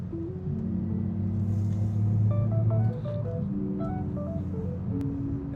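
Manual transmission car engine running steadily, then dropping briefly at one point and resuming, as in a smooth gear change with clutch; low steady drone inside the car, no talk.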